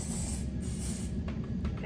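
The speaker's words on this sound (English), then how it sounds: "I spray it on the whole bottom down here" Aerosol spray hissing steadily onto the bottom of an epoxy piece made to look like wood, a continuous close hiss lasting the whole moment with no pauses.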